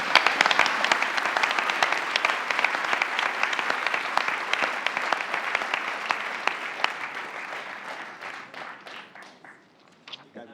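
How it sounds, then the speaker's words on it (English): A large audience at an awards ceremony claps for a winning team in a long, dense round of applause that thins into scattered claps near the end. "Give a round of applause for Harambee."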